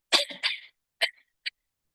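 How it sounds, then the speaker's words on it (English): A person's dry coughs come in a close, loud burst of two quick hacks, then a single cough and a last short one after brief pauses, with nothing else around them. "Yeah, this cough."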